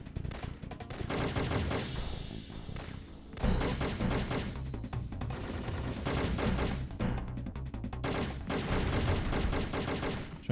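Sustained gunfire in the PS1 shooter Syphon Filter 3, dense rapid shots over loud game music and effects, steady throughout with a brief burst change near three seconds; no talking.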